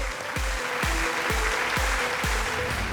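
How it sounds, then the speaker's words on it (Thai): A studio audience on a Thai television code-breaking game show applauds in a steady, even wash of clapping, while a thumping music beat pulses underneath about twice per second. "ขอเสียงปรบมือให้กับคุณชลุกด้วย"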